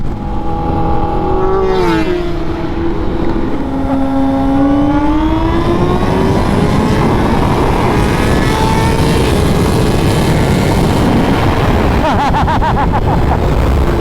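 A 2021 Honda CBR 1000RR-R Fireblade SP motorcycle being ridden on the road, its engine a loud, steady roar with rising and falling revs under heavy wind noise, close to the rider throughout.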